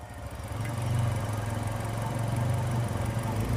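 A 2016 Maruti Suzuki Ciaz ZXI+ petrol engine idles steadily after a push-button start, a smooth, even low hum that holds without revving.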